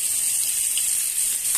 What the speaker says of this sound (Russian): И буду жарить с двух сторон до готовности